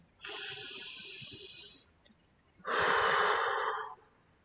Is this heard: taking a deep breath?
yes